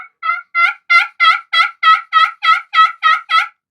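A soft maple wooden turkey call is worked in a steady run of about eleven evenly spaced, clear yelping notes, close and loud, with no voices.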